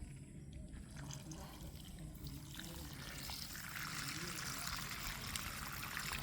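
Water pours and trickles steadily from around the base of a Brazilian rain tree after flooding, a continuous liquid splashing wash that grows slightly fuller over time, with faint voices in the background.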